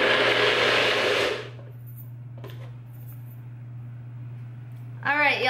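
A loud blender making a green drink whirs for about a second, then cuts off, leaving a low hum and a few quiet clinks before a voice begins.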